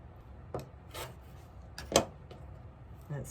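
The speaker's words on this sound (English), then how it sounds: "Let's trim this off." Quilt block fabric is trimmed with a few separate scraping, rasping strokes of a cutter or ruler on a cutting surface, close and soft with quiet gaps between strokes, no speech.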